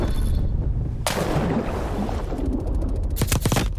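Artillery fire in the Call of Duty Cold War video game: one heavy, booming blast that rolls out into a long rumble, then a quick burst of sharp gunshots near the end.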